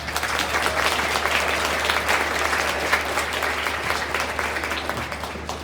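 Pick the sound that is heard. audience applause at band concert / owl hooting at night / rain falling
audience applause at band concert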